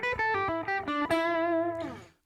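A Fender Acoustasonic Jazzmaster is played through buzzy, fuzz-like distortion, a quick run of bright picked notes ending in a sustained ringing note that fades out, loud and alone with no talk.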